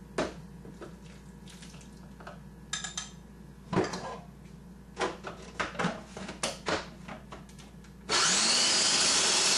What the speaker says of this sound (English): whiz everything together for about 30 seconds